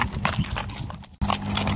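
Horse hooves clip-clopping on the ground during a ride through rural Badiraguato, Mexico, with quick rhythmic close hoofbeats and a brief dropout midway.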